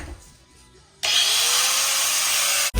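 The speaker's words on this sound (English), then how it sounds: "you pretty much just want to take your grinder and just chop along your tape line" An angle grinder starts up and cuts along a tape line on a 2018 Toyota Tacoma TRD fender, a loud, steady metallic whine that runs for nearly two seconds before stopping abruptly, after a quieter lead-in.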